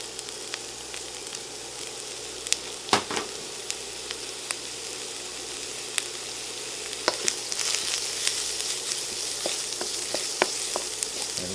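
Minced garlic, onion and pepper sautéing in a pan, a steady loud sizzle with scattered stirring scrapes and clicks.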